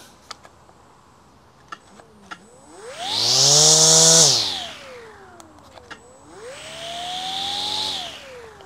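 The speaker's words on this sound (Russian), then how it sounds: "Триммер готов к работе." A P.I.T. PTR20H-380A cordless battery string trimmer, heard after a few clicks: it spins up with a rising motor whine, holds a loud high buzz, winds down, then revs again in a second shorter burst, close up.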